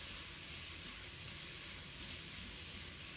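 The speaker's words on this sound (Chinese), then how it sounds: "这里我们需要开大火快速的翻炒，翻炒均匀" Chicken breast and cucumber stir-fried over high heat in a wok, giving a steady, dense sizzle and hiss that fills the whole clip, close and loud, with no voices.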